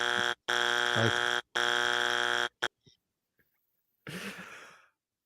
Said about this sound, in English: it gets a buzzer